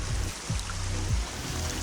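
A small waterfall, McKenzie Brook Falls near Truro, Nova Scotia, pours in a steady close rushing wash with a few low thumps underneath, and no one talks.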